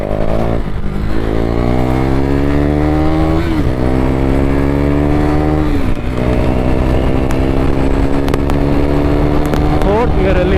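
A KTM Duke 390 motorcycle in fourth gear roars loudly up close, its engine note climbing in pitch through repeated rising sweeps.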